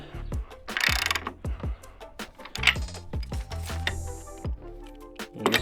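Leg bolts on a Costco Yardistry gazebo are ratcheted down into concrete anchors, giving repeated quick clicking bursts of metal ratchet action with short pauses between runs, close and fairly loud, with no talking.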